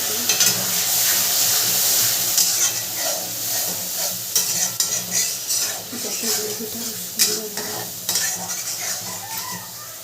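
Coconut milk being stirred into a prawn malai curry in a sizzling pan. A steady close sizzle carries intermittent scrapes and clinks of a utensil against the pan, with faint voices now and then.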